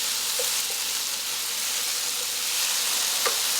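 Potatoes frying in bacon fat give a steady, close hiss of sizzling, with a few faint stirring clicks and no talk.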